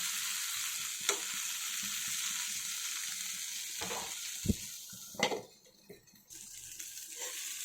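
Stuffed okra (bhendi) sizzles and fries steadily in a pan, a continuous hiss with a few sharp clinks and stirring knocks, ending with a quieter spell.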